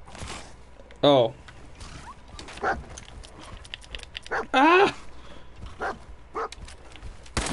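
Dogmeat, the dog companion in the video game Fallout 4, lets out two loud, separate barks a few seconds apart over low game ambience and faint background chatter.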